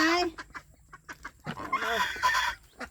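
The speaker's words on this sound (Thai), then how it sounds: "ห่านก็เริ่มมีเสียงแล้วนะ" Farm geese call out while waiting to be fed, a run of short nasal honks in quick bursts, near and fairly loud, with brief gaps between calls.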